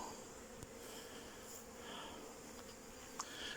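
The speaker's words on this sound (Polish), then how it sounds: "Idzie rójka do nowego domu." A soft, continuous buzzing hum of a honeybee swarm entering a hive, faint and steady, with a couple of light ticks.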